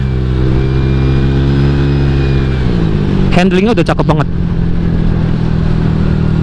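A Honda Vario 150 scooter's engine and exhaust rev in a short burst of rapid throttle blips over a steady idle hum, close by, with someone talking over it.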